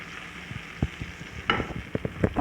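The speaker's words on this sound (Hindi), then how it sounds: "इस स्पैचुला की मदद से मैं इनको और मज़ीद मैश कर लूँगी" A spatula mashes and stirs softened tomatoes in a pan on the stove, giving irregular soft scrapes and taps over a faint background sizzle, with no voices.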